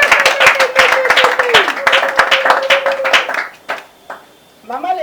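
Applause and clapping from the congregation greeting guests at a church gathering, dense and steady for about three seconds, then fading into scattered claps as a voice rises over it.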